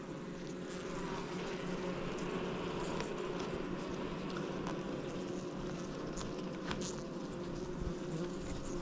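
Bees buzz around beehives in a continuous low, droning hum, steady and moderately faint, with a few soft ticks and no talking.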